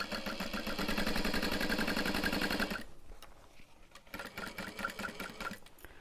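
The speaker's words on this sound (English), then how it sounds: "And then I'll just baste it really quick." Sewing machine quickly basting a connector onto a bag, a rapid close stitching rattle for a few seconds, then quieter intermittent clicks and fabric handling.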